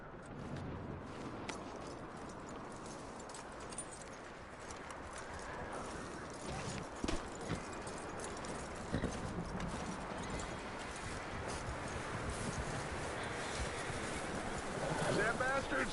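Horse hooves clip-clop steadily through a video game scene, walking in a continuous rhythm under wind and a faint ambient bed, moderately close and not loud.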